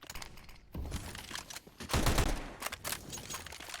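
A Tec-9 in a Counter-Strike match fires in rapid, uneven bursts of close cracks, thickening into a dense volley midway before tapering into scattered shots.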